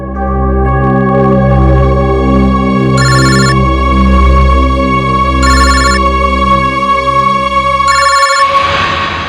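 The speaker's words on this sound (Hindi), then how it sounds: "इनका फोन मत उठाओ तुम" An electronic telephone ringtone repeats in steady bursts, loud and close, over a sustained musical drone, with a brief noisy shift near the end.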